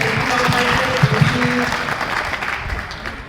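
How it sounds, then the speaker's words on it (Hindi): An audience at a construction site safety motivation program applauds steadily for a presenter, a continuous wash of clapping with a few faint voices mixed in. "तो इनके लिए जोरदार तालियां।"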